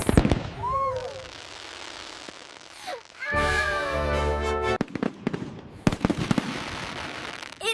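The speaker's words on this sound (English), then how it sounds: "Red, white, and blue fireworks." Fireworks pop and crackle at a summer night display with a barbecue, a dense run of rapid bursts in the middle, then scattered sharper bangs, fairly close, over a constant outdoor hum.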